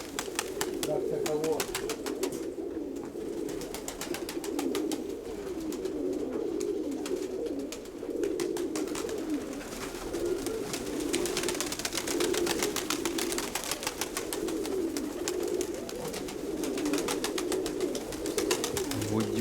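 Pigeons coo steadily and softly in low repeating murmurs, with faint background noise throughout.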